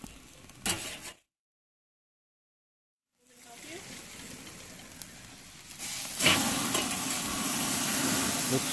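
Fish on a barbecue grill sizzles steadily, with a short silent gap and a scrape as a fish spatula flips it, after which the sizzle swells louder and fuller.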